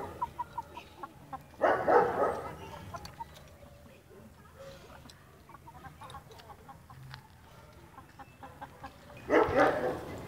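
Chickens cluck and squawk in two loud bursts, with softer scattered clucking and rustling in between.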